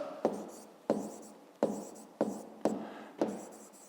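A pen scratches on paper while solving a fifth-grade math exercise, six short, evenly spaced strokes, close and soft.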